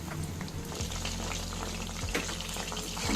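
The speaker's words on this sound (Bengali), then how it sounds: "কড়াইয়ে তেল গরম হয়ে গেছে, একটা করে সবগুলো ছেড়ে দিলাম।" Chicken potato sticks fry in hot oil in a wok with a continuous, close bubbling sizzle that fills the whole stretch without any speech.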